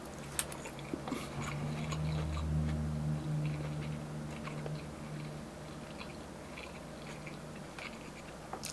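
Chewing and biting on kimchi bacon fried rice from a Korean fried chicken restaurant, with soft mouth sounds and crunches close to the mic over steady restaurant background noise.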